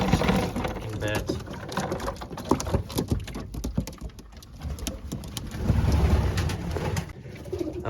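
Racing pigeons splash and flutter in a bath, with soft cooing mixed into steady close-up water patter and wing flaps throughout.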